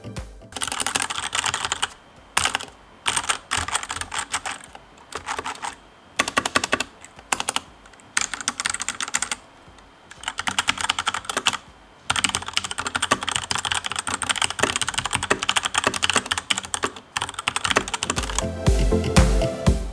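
Clacking keystrokes on a Cooler Master CK530 V2 mechanical keyboard with red switches, a steady near stream of typing broken by short pauses, with no voices.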